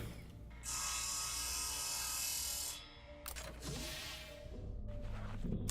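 A drill sawing in the video game Breathedge, a sustained mechanical ratcheting whine that holds steady for a few seconds, dips briefly, then resumes, loud and alone without speech.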